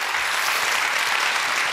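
Studio audience applause on the Russian TV quiz show «Кто возьмет миллион?», a dense, steady wash of clapping, loud and continuous with no voices.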